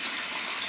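Soaking water from fish heads being poured away into a sink, a short continuous splashing gush of running water, close and steady.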